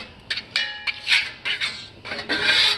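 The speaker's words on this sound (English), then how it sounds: "you're going to use a pepper grinder and grind up a bunch of pepper on both sides" Bursts of dry, rasping crunch from a pepper grinder cracking pepper over smash burger patties, several short twists in an uneven rhythm, close and fairly loud.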